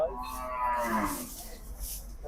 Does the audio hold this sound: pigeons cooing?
no